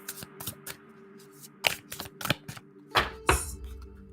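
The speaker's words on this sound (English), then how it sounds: "as I shuffle" Tarot cards are shuffled by hand, giving soft irregular riffles and taps, close but quiet, over a faint steady hum with no talk.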